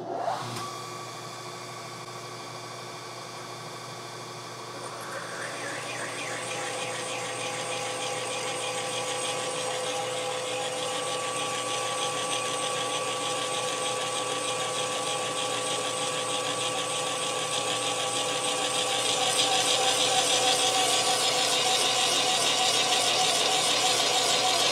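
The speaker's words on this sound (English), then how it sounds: "So now that the quill stop is set, I can run this down and cut this to my height." Milling machine cutting a Ford 302 engine block deck down to height, a steady loud mechanical whir with a high whine that builds after a few seconds and rises slightly louder near the end, continuous and without talk.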